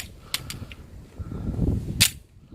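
A Colt Mark IV Series 80 .45 ACP pistol fired at a range target, with a few sharp cracks at uneven intervals, including two shots close together and one louder report near the end, with no talk.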